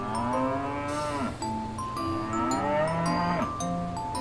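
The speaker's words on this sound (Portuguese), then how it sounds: "Olha a vaca! Como a vaca faz?" A cow moos twice in a long, drawn-out lowing call, close and clear, with a short break between the two calls and no talking.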